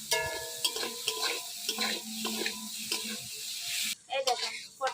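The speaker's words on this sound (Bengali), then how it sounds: "আমি এবার পটলটা ভেজে নেব" Pointed gourd (potol) fries in mustard oil in a pan, a gentle sizzle under repeated clinking, scraping stirs of a metal spatula, close and moderately loud, with a brief louder clatter near the end.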